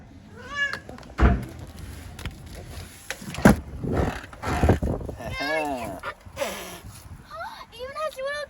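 A cat meows several times in a room, rising and falling cries spaced between bursts of close talk, handling thumps and rustling.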